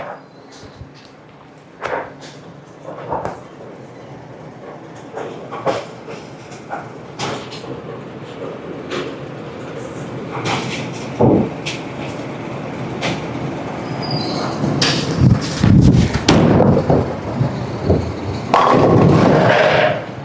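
A dull-finish Brunswick bowling ball rolls down a lane with a building rumble and scattered knocks, then crashes loudly into the pins near the end, with no talking over it.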